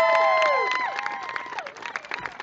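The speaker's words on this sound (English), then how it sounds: "join me in a round of applause for these beautiful people." A crowd at a charity 5K talk event cheers and claps, with high whoops and shouted voices over scattered clapping that thins out toward the end.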